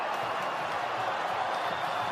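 Sustained wash of crowd noise fills Metricon Stadium at an AFL game, Gold Coast against Collingwood, a steady, even roar with no distinct peaks.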